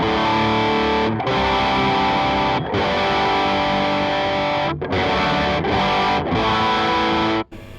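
Loud distorted electric guitar chords from a Super Distortion pickup through a high-gain amp ring out one after another, each sustained with heavy crunch, separated by brief gaps.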